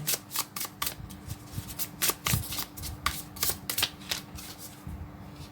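Tarot cards being shuffled by hand in a quick, crisp flurry of riffling snaps and slides, close and fairly loud, with an irregular rhythm and a faint steady hum underneath.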